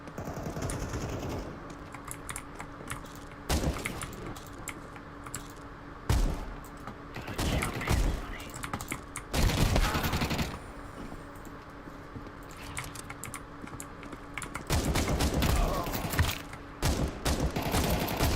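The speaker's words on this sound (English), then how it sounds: "let's try the Scar 20 out. I know you're meant to use this with its scope, but I want to see how accurate it is as well at hip firing" Scattered SCAR-20 rifle shots fired from the hip in Counter-Strike 2, a handful of loud cracks spaced irregularly over steady game ambience, with bursts clustered near the middle and end.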